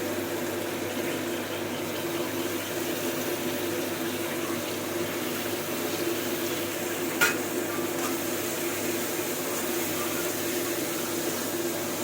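Shredded cabbage added gradually to a dry wok of softened, melted tomatoes, cooked without spices, giving a steady, even hiss of frying and stirring throughout, with one brief scrape near the middle and no voices.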